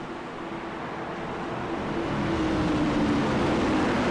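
Race cars in a racing series at Atlanta come through turns 3 and 4 under the pace car, a steady engine roar that swells and grows louder as they approach.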